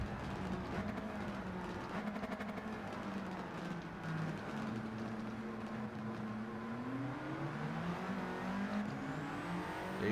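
An Audi TT races along the Tokyo Expressway in Gran Turismo 7, its engine droning in a continuous, fairly quiet whine that rises and falls in pitch as it accelerates, with no talk.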